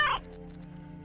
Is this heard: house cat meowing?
yes